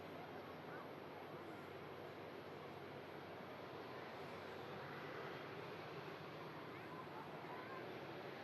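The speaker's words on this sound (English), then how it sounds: "Beast of an aircraft. 330. As I say, arriving in from Palma." An Airbus A330 arrives at Manchester Airport during Storm Lilian, its engines a broad steady roar mixed with heavy wind noise, continuous and fairly distant.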